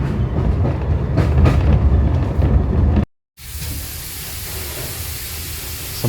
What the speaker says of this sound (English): I think that's a steam train